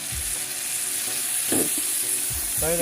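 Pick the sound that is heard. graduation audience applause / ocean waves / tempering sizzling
tempering sizzling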